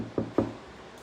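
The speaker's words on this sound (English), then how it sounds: "She knocked at the door." A door knocked on twice in quick succession as a sound effect, two dull wooden raps close together, fairly near and alone with no voices.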